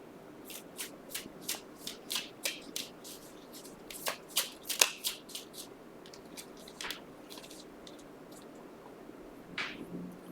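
Gypsy Oracle cards shuffled by hand in a series of crisp riffling bursts, steady at first, then denser flurries and scattered later flicks, close and fairly quiet with no talking.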